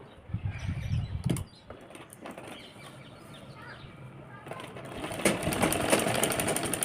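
A sewing machine runs along the edges of a netted frill blouse. After quieter fabric handling, it starts up about two-thirds of the way through and keeps going in a steady, nearby rattling whir.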